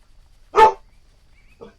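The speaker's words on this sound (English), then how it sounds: "dog just scared the shit out of me" Dog in a survival video game giving one sharp, loud bark followed by a softer second yelp, with near silence around them.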